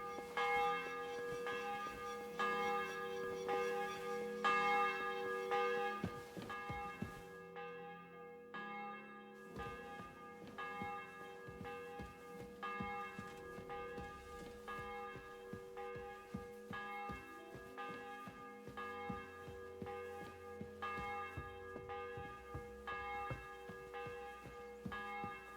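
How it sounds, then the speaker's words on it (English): Church bells in Kingdom Come: Deliverance 2 toll in a steady, repeated rhythm for a long stretch, with overlapping resonant strikes and a brief lull partway through. "bell's ringing for hands the 5th time."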